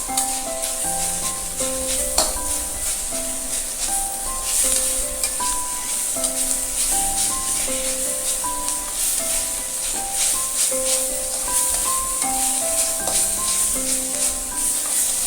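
Drumstick tree leaves being stir-fried in a pan give a continuous close sizzle with scraping stirs, while soft tonal music plays underneath throughout.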